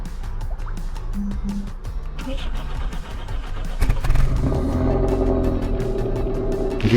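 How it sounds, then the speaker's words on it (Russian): A car engine cranks and catches partway through at minus 52 degrees in a portable garage, then settles into a steady, rumbling idle after scattered clicks and drips. "Двигатель у нас запустился."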